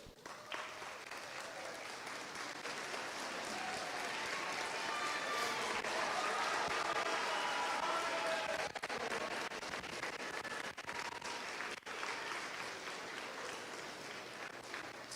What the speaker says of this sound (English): stand up and give them all a round of applause